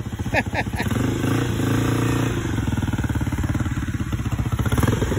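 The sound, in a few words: motorcycle engine revving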